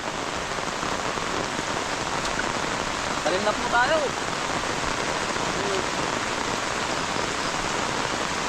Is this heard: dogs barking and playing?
no